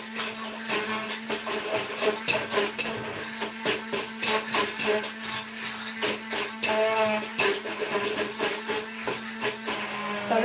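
Hand blender whirring close up with a steady motor hum and rapid, rattling bursts of chopping and churning that rise and fall throughout, with no talk.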